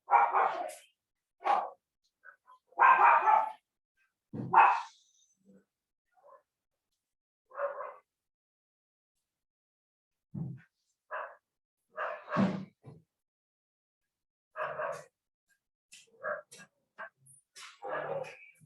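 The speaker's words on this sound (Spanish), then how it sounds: "el perro aquí de la casa van como loco cuando ve otros" A house dog barks in repeated sharp bursts, some near and loud, others softer yips, with a person speaking briefly between them indoors.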